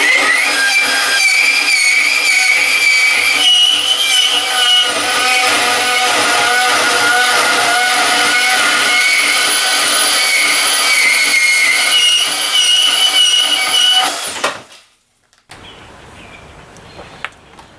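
Milwaukee M18 Fuel 2729-22 deep cut band saw on speed 5 slicing through steel square tube with 3/16 inch walls, a loud steady whining cut with ringing metallic tones that runs for about fourteen seconds, then stops abruptly, leaving quiet room noise.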